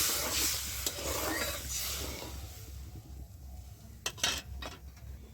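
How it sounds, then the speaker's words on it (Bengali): Water hits a spice paste frying in a pan for a tart silver carp curry with raw tamarind. It begins as a loud hiss and sizzle that settles into a softer simmer, broken near the end by a few utensil scrapes and clinks. "আমি এবার পরিমাণ মতো জল দিয়ে দিচ্ছি"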